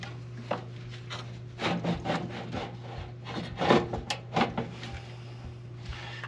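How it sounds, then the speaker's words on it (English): A furnace blower housing is pulled partway out, producing a series of close scraping and rubbing sounds over a steady low electrical hum. "pull this blower, the whole blower housing, everything still attached, out enough to be able to get those two screws in the top"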